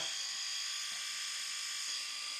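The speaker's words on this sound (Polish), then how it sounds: "Zobaczcie jak ta golarka pracuje." A HOFFEN multifunction men's electric shaver runs steadily with a high-pitched, even motor whine, constant and fairly quiet throughout, heard alone up close.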